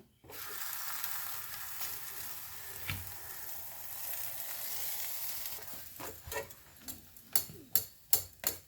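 Amritsari paratha frying in ghee on a pan, a steady close sizzle filling the background, then a run of sharp taps and clanks toward the end as the pan is handled.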